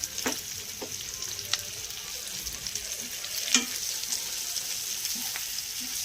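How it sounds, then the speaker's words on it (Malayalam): Sliced onion and curry leaves sizzle steadily in hot oil in a pan for a prawn roast, a continuous close frying hiss with a few brief stirring clicks and no talking. "അതിലോട്ട് നമുക്ക് ഈ സവാളയും കുറച്ച് കറിവേപ്പിലയും കൂടി ഒന്ന് ചേർത്ത് കൊടുക്കാം."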